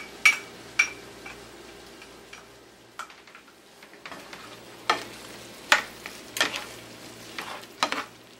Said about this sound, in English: I've mixed the coconut milk and the ketchup together, and I'm adding them now.